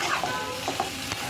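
Boiled liver goes into a hot pan with tomato, yogurt and salt, giving a steady close sizzle with a few brief stirring scrapes over about a second, no voices.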